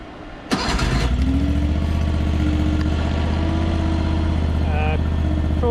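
A cheap Chinese skid steer's engine, already warm, fires up after a short crank and settles into a loud, steady idle with a low drone, with a few clanks and a brief squeak near the end.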